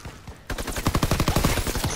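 Call of Duty WWII gunfire: after a short quiet start, a rapid burst of automatic shots fires in a fast, even rhythm for about a second and a half, loud and close.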